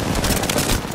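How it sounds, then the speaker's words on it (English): Rapid automatic gunfire in the battle royale game Apex Legends, a dense, loud rattle of shots packed together in a short burst. "Nah, just keep shooting, it doesn't matter."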